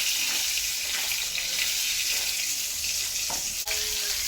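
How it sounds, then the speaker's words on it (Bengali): Pieces of rohu fish fry in hot oil in a pan with a steady, close, loud sizzling hiss throughout, broken near the end by a single sharp clink, with no voices. "হয়ে গেছে আমার রুই মাছ ভাজি"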